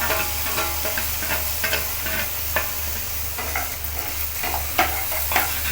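Onions frying with curry leaves in a pan make a steady sizzle over a low constant hum, broken by frequent sharp scraping and clicking stirs.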